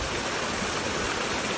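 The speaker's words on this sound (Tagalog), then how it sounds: "Ang lakas ng agos ng tubig." Strong, steady rush of a small waterfall in southern Crete near Ierapetra, a dense continuous roar of flowing water filling the whole clip with no voices.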